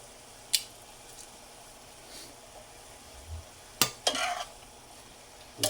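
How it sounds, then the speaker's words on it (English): Food being stirred in a pot on a stovetop, a few brief scraping and squishing strokes separated by quiet pauses, with a soft steady background hiss. "We're gonna mix this up."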